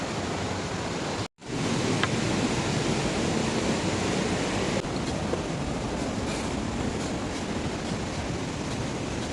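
Waterfall near the end of the Kareri Lake trek in Dharamshala, Himachal Pradesh, a loud, continuous broadband rush of falling water, briefly cut off near the start and then steady and close with no talking.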